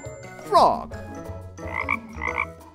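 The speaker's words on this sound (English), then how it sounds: "Frog." A cartoon frog croaks once, then croaks twice more in quick succession, close and clear over soft background music.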